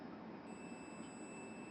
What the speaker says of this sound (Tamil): இந்த பீப் சவுண்ட் வருது.